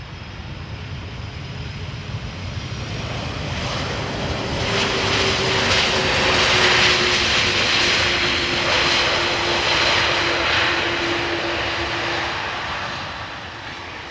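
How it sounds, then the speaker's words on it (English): A Turkish Airlines Airbus A330-300 arriving from Istanbul at Amsterdam Schiphol Airport roars past, its broadband jet-engine rush swelling to a peak midway and slowly fading, with a faint whining tone underneath and no talk. "Turkish Airbus A330-300 arriving from Istanbul."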